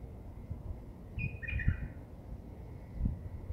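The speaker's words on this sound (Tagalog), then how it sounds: "ibon dito sa garden namin," Birds chirping in a home garden in the morning, a few faint, brief tweets in the distance over a low rumbling background.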